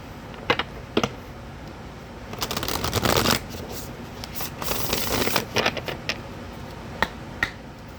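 A deck of tarot cards is shuffled by hand, with crisp riffling bursts and scattered sharp taps and snaps of cards, close and clear, with no talking.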